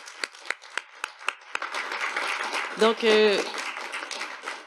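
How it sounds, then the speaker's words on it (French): A few scattered hand claps tap out sharply, then thin out as a person begins speaking. "On va les applaudir une autre fois."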